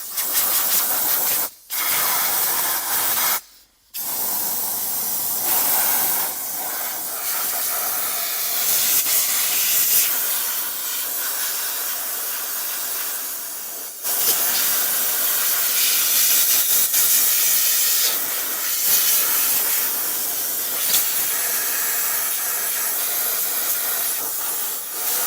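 Forced air blasts steadily inside a car during interior detailing, a loud continuous hissing rush broken by a few brief pauses where the airflow cuts off and restarts.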